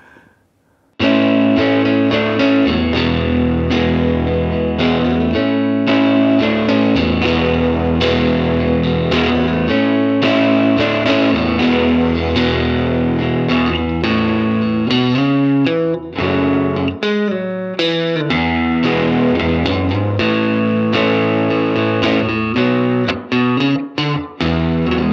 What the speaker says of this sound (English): do a little demonstration of this guitar through the GA-20 that the guy had for many years with his guitar